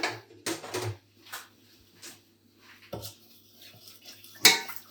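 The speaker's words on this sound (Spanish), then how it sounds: "La leche va a empezar a hervir y nosotros lo que tenemos que ir haciendo es ir revolviendo continuamente" A utensil scraping and knocking against a pot while milk is heated for rice pudding: irregular clinks and scrapes, close and moderately loud, separated by quiet gaps.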